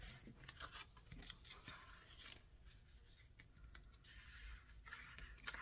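Scissors snip through doubled-over brown cardstock in a run of short, crisp cuts with light rubbing and scraping between them, close and fairly quiet, with no voices.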